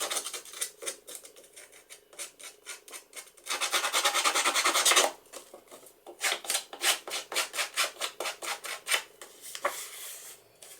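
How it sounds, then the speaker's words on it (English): A distressing tool rasps along the edges of paper card stock for a shaker card, in a run of quick close scraping strokes with one longer continuous scrape in the middle, no voices. "I'm going to use my distressing tool and I'm going to distress the edges of this."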